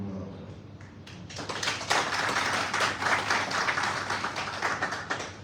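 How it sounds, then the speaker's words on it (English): Audience at a national Ministry of Health panel on the MPOX response in Sierra Leone breaks into steady applause after a brief quiet start, the clapping building and holding as a dense, sustained patter. "we should applaud the little work"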